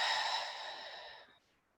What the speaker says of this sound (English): we'll take 3 cleansing breaths here, in through the nose, a little pause and an exhale through the mouth